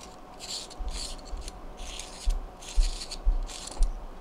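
The battery of an eGo e-cigarette starter kit is unscrewed by hand, giving a series of short, close, rasping thread-rubbing twists in uneven bursts with small clicks between them.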